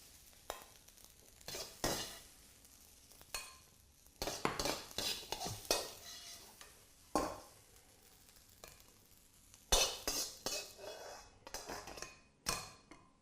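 Egg fried rice is tossed and stirred in a hot wok, with irregular metallic scrapes and clanks of a utensil against the pan over a soft sizzle, close by and with no talking.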